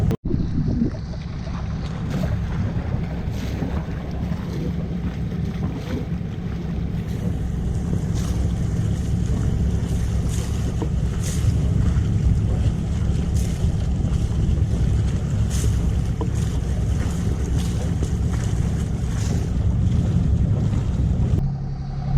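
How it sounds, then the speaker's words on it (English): A loud boat engine drones steadily and close, with wind buffeting and water noise mixed in throughout. "so still got the super loud engine on, so hopefully you can hear me"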